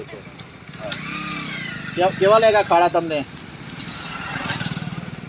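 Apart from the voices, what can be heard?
motorcycle passing by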